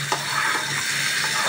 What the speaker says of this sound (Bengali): চলুন এটা ভাজা হোক